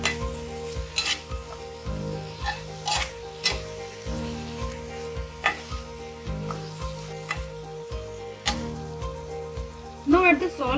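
Bhindi with cubed onions and tomatoes being mixed in a pan over heat, a steady sizzle beneath repeated rhythmic spatula taps and scrapes, with music playing throughout.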